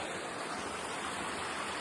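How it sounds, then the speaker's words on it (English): Steady, dense rushing of a waterfall on the Normandy coast, a continuous broadband roar without breaks, fairly soft and even throughout. "Got some lovely waterfalls."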